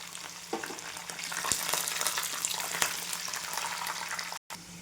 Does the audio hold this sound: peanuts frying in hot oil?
yes